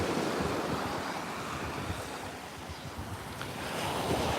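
Ocean waves wash steadily onto the shore at Waikiki Beach, a dense continuous surf roar with wind buffeting the microphone throughout and no talk.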